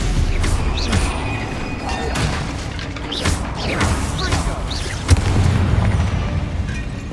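Explosive spells go off during combat in Hogwarts Legacy, loud booms and crashing blasts rolling one after another over a dense game soundscape, with a voice calling out alongside.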